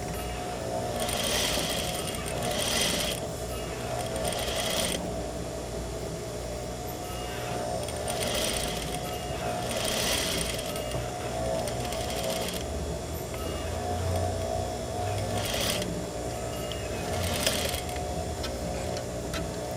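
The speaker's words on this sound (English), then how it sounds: "I'm going to continue sewing this down at 1/4 inch seam allowance" A sewing machine runs steadily while stitching down a quarter-inch seam allowance on an open bound seam, its fast mechanical whir pausing briefly every few seconds as the fabric is guided.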